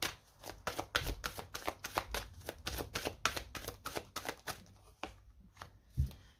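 A deck of tarot cards is riffled and shuffled close to the mic in a quick run of crisp, rapid flutters, then slows to a few separate card taps and a soft thump near the end.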